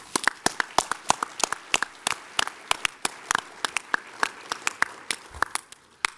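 An audience claps for hospital staff at a medical society's presidential address, the sharp, fairly sparse claps landing one after another at an uneven pace for several seconds.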